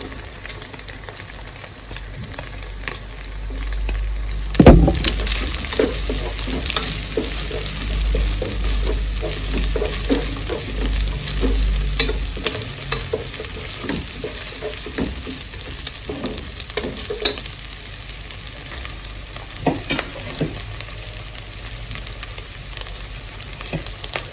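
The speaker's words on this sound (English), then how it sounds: "I'll now go in with my onions." Onions stir-fry in a hot pan for fried rice, sizzling loudly and steadily with a sharp hit as they go in, followed by scraping stirs and continuous crackling, close and with no talk.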